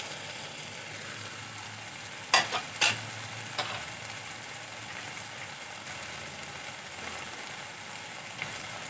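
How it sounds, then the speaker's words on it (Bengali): Spices sizzle softly in a pan while being sautéed for an egg curry, a faint, steady frying hiss broken by a few sharp clinks of a spoon against the pan near the middle. "খুব ভালো করে মশলা আমি কষিয়ে নেব"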